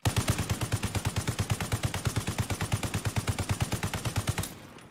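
Call of Duty: Warzone automatic gunfire during a no-recoil test: a single long, steady burst of rapid, evenly spaced shots runs for about four and a half seconds, then stops abruptly.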